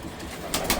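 Soft cooing from racing pigeons, hens and young birds in a loft, a brief low murmur close by with faint background hum.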